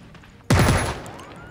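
A sudden loud gunfire burst cracks out in Jagged Alliance 3, one sharp blast that rolls into a decaying echo over about a second.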